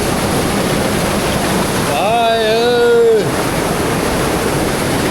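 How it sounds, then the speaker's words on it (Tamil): Water pours in from a pond in a constant, close rushing wash that fills the whole stretch, with a person's voice rising briefly over it midway. "இதான் வந்து அந்த குளத்துலேருந்து வர தண்ணி வர இடம்"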